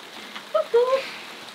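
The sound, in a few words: rain falling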